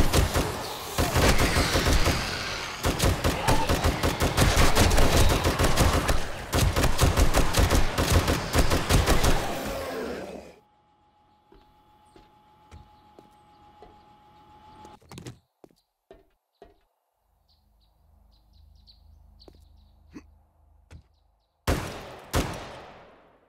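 Automated turret gunfire in 7 Days to Die, a loud rapid burst of shots for about ten seconds, then near silence broken by scattered clicks and thuds, and a final short burst at the end.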